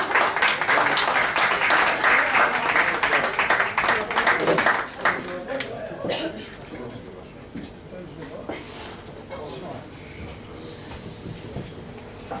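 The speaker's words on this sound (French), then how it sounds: "Round of applause, please, everybody" An audience applauds a performer being introduced on stage, a dense, loud wash of clapping for about five seconds that then fades to a lower, thinner patter with scattered claps.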